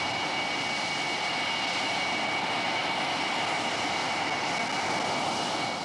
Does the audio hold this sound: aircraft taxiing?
yes